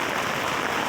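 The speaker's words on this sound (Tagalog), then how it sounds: "Malakas ang ulan." Heavy rain while walking outdoors toward the market, a dense, loud, steady hiss of downpour with no pauses.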